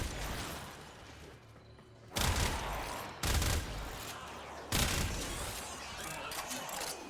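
A burst-fire weapon shoots in the Warframe video game, giving several loud, sharp bursts of rapid shots over continuous game noise and mechanical clatter.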